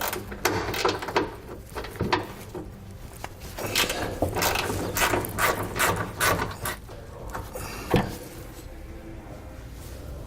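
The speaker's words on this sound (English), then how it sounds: "This bolt right here we need to remove. 13mm socket, we'll go right from the top." Ratchet with a 13mm socket loosening a bolt holding brake lines during a rear air helper spring install, rapid close clicking strokes in uneven bursts, with clunks of metal handling between them.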